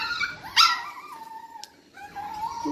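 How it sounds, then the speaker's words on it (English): Dogs whimper and let out a sharp yip, followed by a drawn-out whine and more soft whimpering close by, with no one speaking. "You dogs be quiet."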